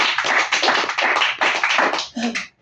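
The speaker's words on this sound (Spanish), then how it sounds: "Demos un aplauso a nuestro Gloria a Señor" A church congregation bursts into applause during a Spanish-language worship service, a dense, close burst of rapid clapping that thins out and stops near the end.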